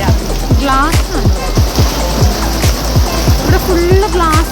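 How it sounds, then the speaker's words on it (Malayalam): Heavy rain falling on glass at a zoo makes a loud, close, continuous wash with rhythmic pattering, and a voice is heard over it. "ഗ്ലാസ്സിൽ അത്രയും വെള്ളം വീണ് മഴ"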